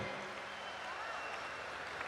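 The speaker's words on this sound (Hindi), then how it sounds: "तालियां जोरदार वाली बजाओ एक बार।" Audience applause at a Hindi comedy poetry show, a steady faint wash of clapping that holds evenly for about two seconds with no voices on top.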